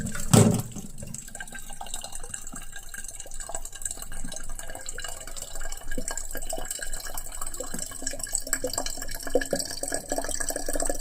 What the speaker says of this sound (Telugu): అది మొత్తం ఫుల్గా వాటర్ పడుతున్నాను క్యాన్ నిండా